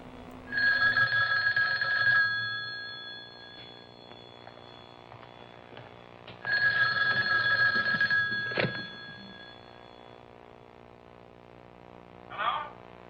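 An old-fashioned telephone bell rings in two long bursts, loud and close, with a pause between, followed by a short clack as the receiver is lifted.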